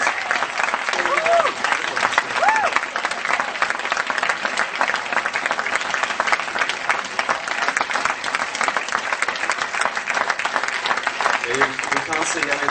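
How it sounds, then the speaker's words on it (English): Hamburg fan Q&A audience with Joss Whedon, Nathan Fillion and Summer Glau breaks into loud, sustained applause that fills the hall for the whole stretch, with voices mixed faintly into the clapping. "It's your applause."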